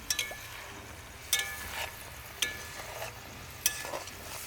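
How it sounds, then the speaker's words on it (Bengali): Eggplant in a simmering coconut curry being lifted and stirred, four distinct spoon scrapes and clinks against the pot at roughly one-second intervals over a soft bubbling background, no voices. "বন্ধুরা এই যে বারবার এরকম একটু উঠিয়ে উঠিয়ে একটু নেড়ে দিতে হবে।"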